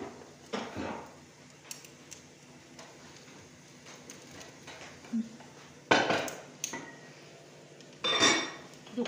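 Metal pots and utensils clatter and scrape in short bursts while a pot of lentil soup is emptied, with louder clanks near the end, fairly close and without talk.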